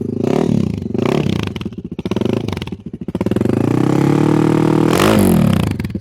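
A 26-year-old Honda XR400 four-stroke dirt bike engine runs close by, rumbling steadily with a few sharp throttle blips and revs that rise and fall, loud throughout.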